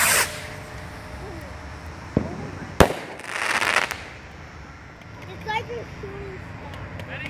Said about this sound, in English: Skymaster rocket, first rocket.